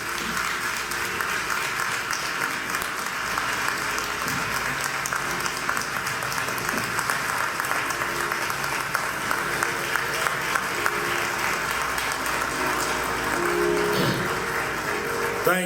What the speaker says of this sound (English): Please give a great round of applause for the Reverend Al Sharpton.